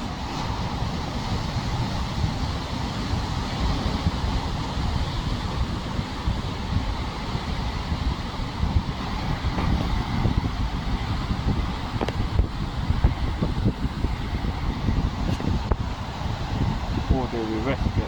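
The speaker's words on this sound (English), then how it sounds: "Be quiet so you can hear the sound of the ocean." Ocean waves wash against the rocky shore at the Ajuy caves on Fuerteventura in the Canary Islands, a steady loud surf roar mixed with wind buffeting the microphone, with voices audible faintly now and then.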